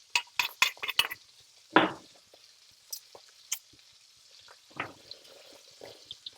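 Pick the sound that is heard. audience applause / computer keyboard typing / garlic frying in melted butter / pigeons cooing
garlic frying in melted butter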